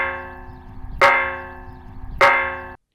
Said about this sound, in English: which is the rock dropped on it, which is a whole heck of a lot louder.